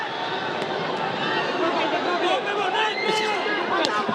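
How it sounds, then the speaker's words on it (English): Boxing crowd on their feet in an arena during a heated round between Eumir Marcial and Eddy Colmenares, a dense continuous roar of cheering and shouting throughout, with a commentator talking over it. "The crowd on their feet."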